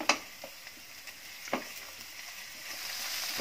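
Spring onion whites frying in a pan over medium heat, a soft, continuous sizzle broken by a few faint scraping taps from stirring, with no talk.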